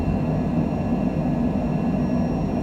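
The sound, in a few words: Citation Longitude jet taking off from Las Vegas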